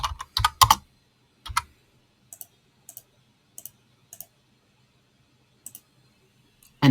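Computer mouse clicks and keyboard keystrokes, a quick burst of taps followed by sparse, isolated clicks spread apart in a quiet room.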